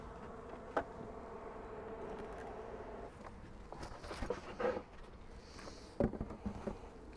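Honey bees buzz around beehives in a steady, dense outdoor hum that persists throughout, with occasional louder passes as individual bees fly close, plus a few soft knocks and rustles.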